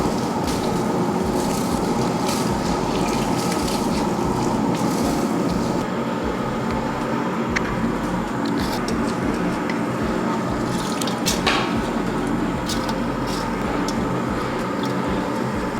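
Water and rice being poured into a large pot of whole-chicken biryani, a continuous loud rushing, sloshing pour with occasional clinks and knocks.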